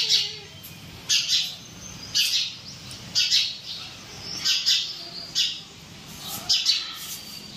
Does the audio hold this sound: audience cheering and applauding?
no